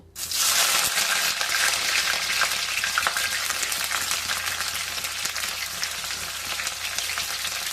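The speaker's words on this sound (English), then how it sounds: "I just put mustard oil here. So and I'll just fry the cut onions." Cut onions hit hot mustard oil in a pan for a Bengali mutton curry, starting a loud, steady, crackling sizzle that holds for several seconds with occasional stirring clatter and no talking.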